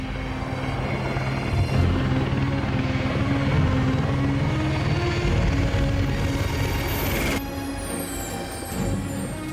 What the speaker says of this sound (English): The helicopter is filled with equipment and food.